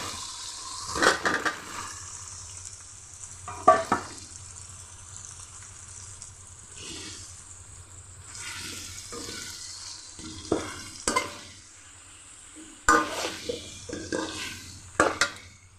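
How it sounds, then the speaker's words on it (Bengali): Young jackfruit tipped into a pan of frying spice paste and stirred, with spoon clatters and sharp scraping bursts over a low, quiet sizzle, close by. "এখন আমি কাঁঠালের এঁচড়টা এটার মধ্যে দিয়ে দেব"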